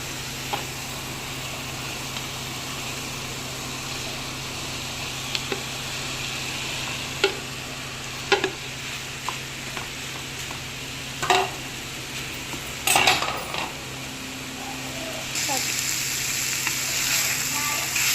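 Cooked rice being stirred up and down through oil in a pan for mint rice, giving a steady low sizzle with scattered spoon scrapes and clinks, no one talking.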